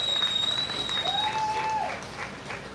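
Audience applause for a poet at a Pride open mic, a soft, steady patter of clapping that fills the short moment and fades slightly toward the end, with a faint whistle tone drifting over it.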